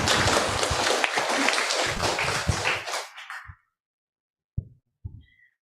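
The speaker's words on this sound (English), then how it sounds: "Give him an applause." Dense applause from a university public lecture audience fills the first three seconds and then fades out, followed by near silence broken by a couple of faint thumps.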